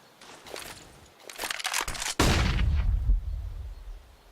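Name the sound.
rifle spray gunfire in Counter-Strike on Inferno, video game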